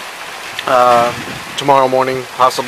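Steady rain and gusting wind from Hurricane Irma make a continuous hiss throughout, running beneath a voice that speaks in short bursts.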